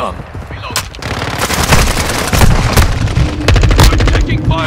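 Call of Duty: Modern Warfare II battle gunfire, loud automatic bursts and rapid rattling volleys with heavy booms, continuous and intense, with shouted voices mixed in.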